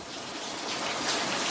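Steady rain falls in a broad, even hiss, close and fairly loud, with no pauses and no voices for a brief stretch.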